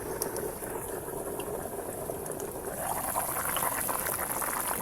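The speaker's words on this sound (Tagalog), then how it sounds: "nakikita nyo talagang kulong-kulo siya, kumukulo talaga siya" Water boils vigorously in a pot, a steady bubbling and rattling hiss close by with no voices.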